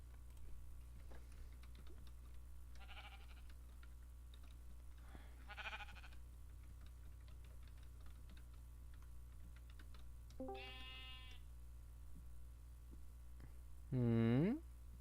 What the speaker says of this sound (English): Do you not see the two sheep there?